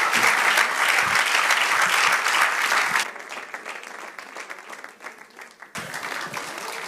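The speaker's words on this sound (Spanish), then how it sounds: "Denle un aplauso al Señor." A church congregation applauding loudly in dense, sustained clapping that drops away after about three seconds, leaving scattered quieter claps before a brief swell returns near the end.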